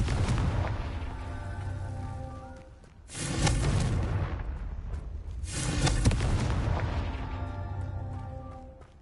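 Confringo blasting spells in Hogwarts Legacy, two loud fiery bursts a few seconds apart, each a broad rushing blast that fades off over a low rumbling game background, with no talk.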